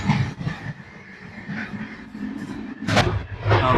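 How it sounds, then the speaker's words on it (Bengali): The Kalka Mail train runs at speed, heard from inside as a rolling rumble with irregular clanks and rattles, swelling louder toward the end. "পরন্ত বিকেলে ট্রেন দুরন্ত গতিতে ছুটে চলেছে"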